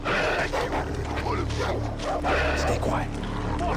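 A dog in the Far Cry 3 video game barks and yips several times in quick bursts, close and fairly loud, over game ambience and someone talking.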